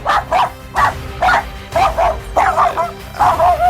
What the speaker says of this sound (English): Whimper if you want to go on a date with Boomer.